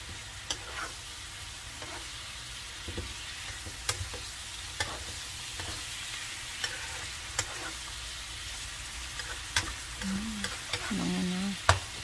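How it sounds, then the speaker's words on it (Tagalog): A rice dish fries in a pan while a spoon stirs it, giving a steady, close sizzle broken by repeated scraping strokes and a few louder clinks near the end. "halo-halo na naman"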